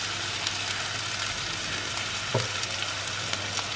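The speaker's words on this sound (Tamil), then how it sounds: "இஞ்சி பூண்டு பேஸ்ட் போட்டு கொஞ்சம் சாட்டே ஆனதுக்கப்புறம் 3 பச்சை மிளகாய் லைட்டாக கீறி இருக்கேன்" Ginger garlic paste and slit green chilies sautéing in a pan for jackfruit biryani, a steady dense frying hiss with one brief scrape near the middle, close and even, no voices.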